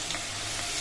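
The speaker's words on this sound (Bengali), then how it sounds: "এই দেখো এখানে হচ্ছে আলুটা ভাজা হচ্ছে" Potato slices frying in hot oil in a home kitchen while preparing a Bengali brinjal-hilsa dish, giving a steady, dense sizzle with faint stirring, close and continuous.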